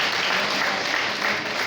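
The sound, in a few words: applause for a school team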